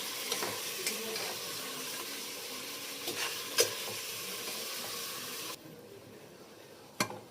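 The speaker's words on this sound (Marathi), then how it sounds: "कुकरमध्ये सगळं चिकन मी टाकलेलं आहे. छान आता तेलामध्ये परतून घेते." Marinated chicken sautéing in oil inside a pressure cooker, a steady close sizzle with occasional scraping stirs and clinks, the frying noise dropping lower near the end.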